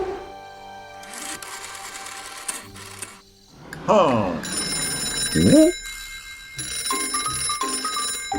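A cartoon telephone rings with a repeated electronic trill while voices talk over it, fairly loud and close.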